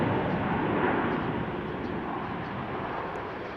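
A Eurowings airliner touches down on runway 34 left, a broad roaring engine and rushing air that holds strong and slowly fades, heard from a distance with no talk.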